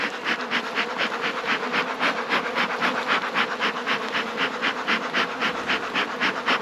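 Honeybees from a nuc transferred into a full-size hive, buzzing as the hive is closed up: a dense, steady swarm drone with a quick pulsing rhythm, close and continuous, with no voices.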